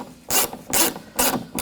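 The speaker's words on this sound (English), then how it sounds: "Now we can put the screws in." Screws being driven into a 2007-2013 BMW X5 rear door during a window regulator replacement, three separate ratcheting bursts of roughly a quarter second each, close and fairly loud, with short pauses between them.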